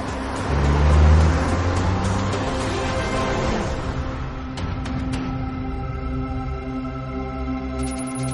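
A new SEAT Ibiza Cupra being driven: a loud engine swells and revs early, then settles into a steady cruising drone with road and wind noise, no voices.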